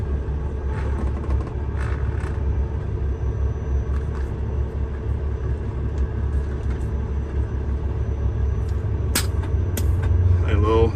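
A 2015 Kenworth W900 truck drives with a steady, loud low rumble of engine and road noise and no break for the whole stretch, the level swelling slightly near the end as it shifts.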